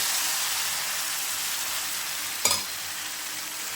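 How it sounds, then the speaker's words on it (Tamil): Wheat flour appam batter fries on an oiled dosa griddle, giving a steady close hiss of sizzling with one brief crackling burst partway through. No one speaks. "இப்போ நம்ம ஸ்டவ்வில் கல் வச்சுருக்கேன் தோசை கல் அதில் ஊற்ற ஆரம்பிச்சிடலாம் கொஞ்சமாக எண்ணெய் விட்டு"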